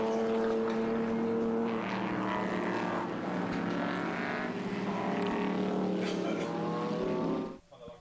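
A historic racing car roars past on the Silverstone Grand Prix circuit during the RAC Pall Mall Cup, a loud sustained engine drone that sweeps in pitch for several seconds before cutting off abruptly at the end.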